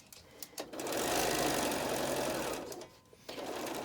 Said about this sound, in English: I suggest you sew on the lining side, that way you can see where you're starting and stopping.